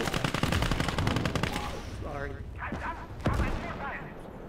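A tank in the WWII game Gates of Hell Ostfront fires amid dense battlefield noise, with rapid bursts of gunfire at first, then heavier single shots and thuds. A voice is heard faintly under the din.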